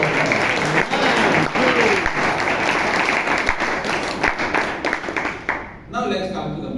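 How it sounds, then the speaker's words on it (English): Sustained applause from the audience at a Toastmasters club meeting in Bangalore, dense steady clapping that fills the room and then stops abruptly near the end. "please give Jose Paul a big round of applause."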